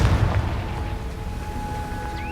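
A Confringo fire spell blast in Hogwarts Legacy: a single deep, loud explosive boom at the start that fades into a low rumbling tail, with no voices.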